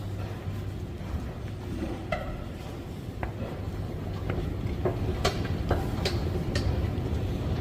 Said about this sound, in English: the I and the P train that come here will go to Central Station